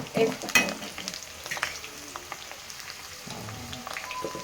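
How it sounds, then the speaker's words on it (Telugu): Ginger and garlic frying in oil in a pan for a bitter gourd pickle, a soft close sizzle with a few louder clatters of a spoon at the start, then steady quiet crackling. "అల్లం వెల్లిగడ్డ పచ్చి వాసన పోయేంత వరకు మంచిగా ఫ్రై చేయాలి"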